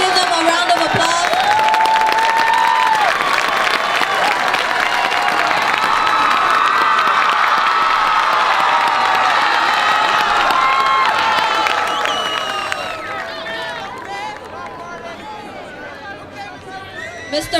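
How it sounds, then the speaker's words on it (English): Loud crowd applause and cheering at a 2011 high school graduation ceremony for the class advisors, dense clapping with whoops and shouts sustained for about twelve seconds before tapering off into lighter chatter. "Please give them a round of applause."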